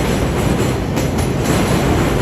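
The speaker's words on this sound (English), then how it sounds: "That is a train again." A train rumbles past close by near White Plains Road in the East Bronx, New York City, a loud continuous roar of wheels on rails with faint clatter and metallic hiss throughout.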